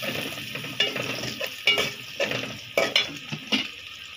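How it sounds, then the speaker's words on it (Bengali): Chopped onion frying in a pan with fish cooking alongside: a steady hissing sizzle broken by several sharp scraping stirs, close and fairly loud, with no talking. "এই তো পেঁয়াজটা দিয়ে দিছি। ওদিক দিয়ে মাছও হচ্ছে।"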